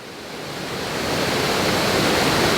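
Floodwater after heavy rain surges through Sunnyhurst Woods in Darwen as a dense, roaring rush of water, swelling slightly louder and holding steady, with no talking over it.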